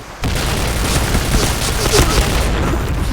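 Gunfire rattles in the online shooter Point Blank, a dense, loud run of rapid shots and booms that continues steadily for several seconds.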